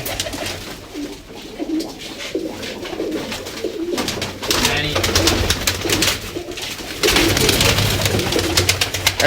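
Domestic pigeons kept by a pigeon fancier coo repeatedly in low, throaty rolls close by, with people talking over and between the calls.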